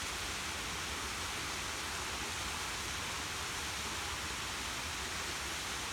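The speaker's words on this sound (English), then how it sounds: "And the sound of water is very grounding." Constant, even rushing of a waterfall in the desert, a dense hiss with no breaks, fairly soft and steady throughout.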